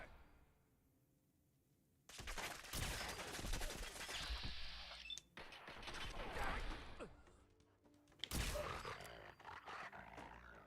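Gunfire in Fallout 4 breaks out after a quiet opening as rapid bursts of shots mixed with mechanical clatter and grunts. It comes in several loud stretches with brief drops between them.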